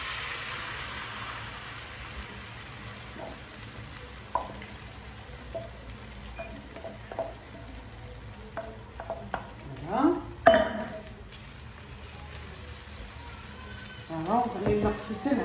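Tortilla batter goes into a hot frying pan and sizzles faintly, with utensil scrapes and clatters that grow busier toward the end, while someone talks over the cooking.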